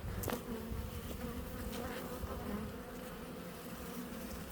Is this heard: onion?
no